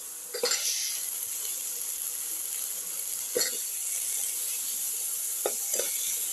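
Potato pieces fry in a hot pan for a cucumber potato casserole, giving a steady broadband sizzle broken by a few sharp scraping stirs near the start, middle and end.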